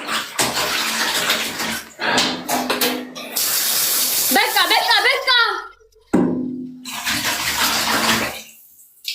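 Water is poured and splashed while someone washes, running in loud gushing bursts with brief pauses, and voices talk over the splashing partway through.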